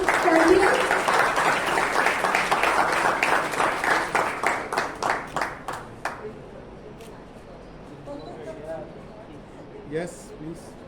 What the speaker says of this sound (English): Can we have a huge round of applause for today's quiz champion?